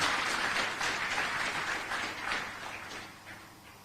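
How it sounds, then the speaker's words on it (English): Audience applause welcoming a speaker at a conference with Kenya's president, a dense wash of many hands clapping at steady loudness that slowly fades near the end. "Why don't we welcome her with a clap?"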